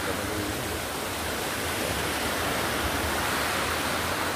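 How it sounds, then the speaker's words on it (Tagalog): A river in Barangay Puting Bato, Agusan del Norte, rushing steadily with a broad, even roar of flowing water, close by and continuous with no voices over it. "Ayan, may ilog dito."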